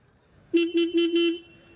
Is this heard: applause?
no